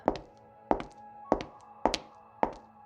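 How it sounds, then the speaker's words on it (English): Five soft, evenly spaced thuds land about every half second, like footsteps on a hard floor, quiet and close with no other sound around them. "maybe it's the sound of a footstep"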